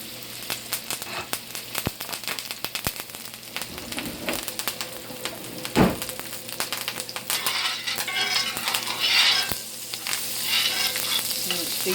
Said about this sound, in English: So I'm going to go ahead and put my butter in. And put my cloves.